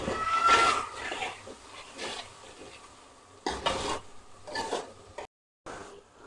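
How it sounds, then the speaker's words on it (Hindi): Tomatoes cooking down in a pan for Bihari-style aloo baingan, with stirring scrapes and a soft sizzle coming in bursts at close range, then a short pause near the end. "टमाटरों को इसमें अच्छी तरह गलाएंगे।"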